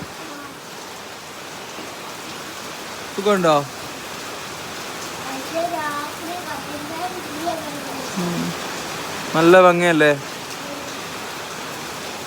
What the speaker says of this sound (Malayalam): ഈ മഴ ഇങ്ങനെ കണ്ടോണ്ടിരിക്കാൻ രസമല്ല പൂ?